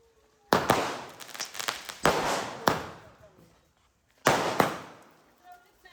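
Firecrackers burst at a village wedding: several sharp loud bangs, two close together early, then another pair after a pause, each trailing off with crackle and rumble.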